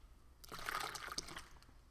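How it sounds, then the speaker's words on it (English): Water poured into a shaker to mix Keto Chow 2.0 meal shake, a short soft splashing trickle lasting about a second, fairly quiet and alone. "that's where I'm going to add in the rest of my water"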